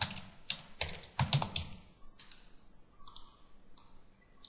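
Keystrokes on a computer keyboard, typed in quick bursts of close clicks that thin out into a few isolated taps.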